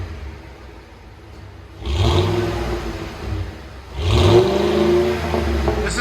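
A 2010 Ford F-150 5.4-liter Triton V8 idles with a low rumble, then revs up twice, each rev swelling loudly before settling back to a throaty idle.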